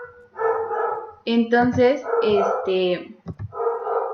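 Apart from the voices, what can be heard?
small dogs barking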